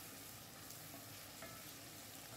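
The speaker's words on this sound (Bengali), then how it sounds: "এখন আমি ভাজা করে নিচ্ছি পেঁয়াজ আর রসুনের পেস্টটা" Onion and garlic paste frying in a pan for a Bengali fish curry with potato and pointed gourd, giving a faint, steady sizzle that continues evenly with no voices.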